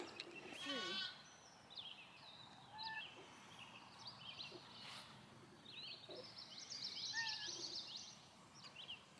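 Young lambs bleat on a farm, with several high, wavering cries spread through the scene, fairly faint and a little distant, along with some bird chirps in the background.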